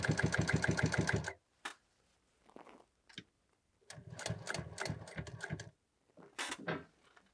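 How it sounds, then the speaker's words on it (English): Sewing machine running a top stitch through chair upholstery fabric: a fast, steady mechanical chatter for about a second, then short clicks and handling noises before two more bursts of stitching, all close and with no talking. "I'm just sewing that top stitch on"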